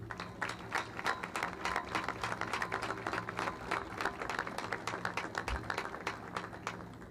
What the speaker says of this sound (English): Can we get another round of applause for our fantastic speakers today?